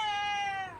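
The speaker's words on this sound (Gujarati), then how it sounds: "અત્યારે ભૂખ લાગી ગઈ ને એટલે મ્યાઉ મ્યાઉ કરવા માંડે." A hungry cat gives one clear, close, drawn-out meow that slides slightly downward in pitch, heard alone.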